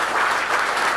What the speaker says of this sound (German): Applaus, Paschentrainer Georg Zellhofer.